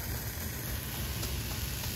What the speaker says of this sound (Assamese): মায়ে এইফালে ভাজি আছে মূলা পাত ভাজিছে